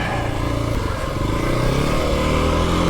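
Kawasaki KLX300 dirt bike ridden uphill, its engine droning steadily and close with shifting pitch, no talk over it.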